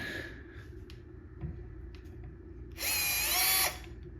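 A Bosch 12V cordless driver runs in short bursts, then drives a screw deep in one sustained high whine of about a second before stopping, close and clear over a quiet room.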